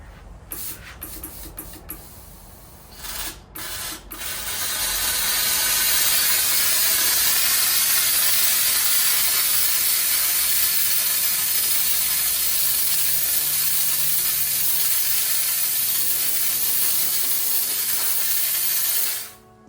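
A Vapamore MR-750 steam cleaner fitted with a regular nozzle sprays steam: a few clicks of the trigger, then a loud, steady hiss that holds for about fifteen seconds and stops abruptly.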